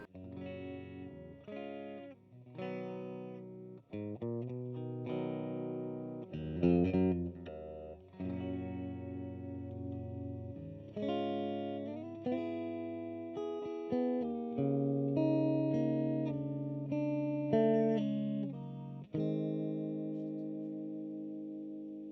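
Electric guitar playing clean chords and single notes, miked from the amp with an E609, heard alone as ringing, sustained tones with rhythmic strums and gentle decay.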